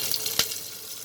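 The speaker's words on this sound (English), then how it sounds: "I've reduced the flame and I'm going to add the chopped onions and the green chilies." Chopped onions and green chilies hit hot ghee with spices over a lowered flame, setting off a close, steady frying hiss with one sharper crackle early on.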